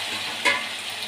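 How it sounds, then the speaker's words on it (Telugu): Chopped tomato pieces drop into a pan of cooked cucumber and drumstick curry, setting off a short burst of sizzling and stirring over a steady frying hiss, close and alone. "ముందుగా కట్ చేసి పెట్టుకున్న టమాటా పీసెస్ని వేసుకుంటున్నాను"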